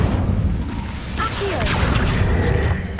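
A fire spell cast in a video game gives a loud whooshing, booming burst with crackling texture, steady and dense across the whole moment, with a voice faintly present beneath it.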